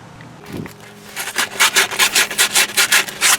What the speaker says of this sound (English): Just go around the inside of the knuckle, clean it up real good. Get it smooth, ready for some grease.